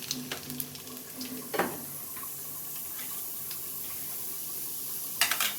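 Dry red chillies and black cumin sizzle in hot oil, a steady crackling fry punctuated by a few sharp spatters and stirring clinks, close and fairly quiet.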